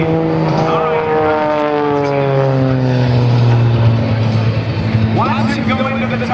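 Aerobatic propeller airplane at a Blue Angels homecoming airshow, its engine droning loudly and steadily with shifting pitch as it maneuvers, under an announcer's commentary.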